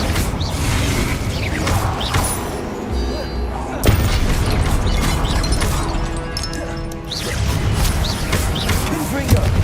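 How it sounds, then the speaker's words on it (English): Fire spell cast in Hogwarts Legacy, a loud sustained roaring whoosh of flames with mechanical rumbles and crashing impacts throughout, swelling and ebbing over a dense game soundscape, with a sharp burst near the middle. "Incendio."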